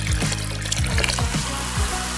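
Fizzy drink being poured, a steady bubbling, trickling wash throughout with repeated small gurgling drops, close and continuous.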